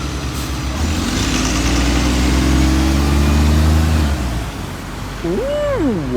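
Route 30 bus returning from Southery into Lincoln Central Bus Station, a loud, close diesel engine droning and shifting pitch as it pulls in, with a brief squealing brake or whine near the end.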